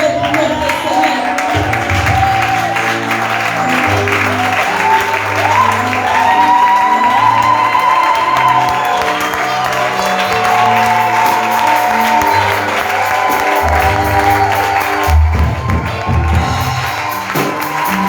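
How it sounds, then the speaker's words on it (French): A church congregation at a teaching service applauds and cheers for the Lord, sustained loud clapping from a large crowd mixed with shouts and a strong musical drone underneath, continuing for the full stretch. "Est-ce que nous pouvons acclamer pour notre Seigneur?"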